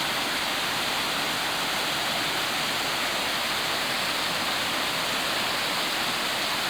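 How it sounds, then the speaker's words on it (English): Steady, dense roar of a year-round waterfall beside the East Fork hiking trail in the Shining Rock Wilderness, loud and close with no pauses and nothing else audible over the rushing water. "Waterfall along the way."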